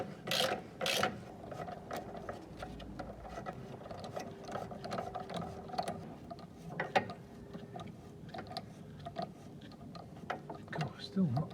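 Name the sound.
gear puller pulling apart Thwaites dumper truck clutch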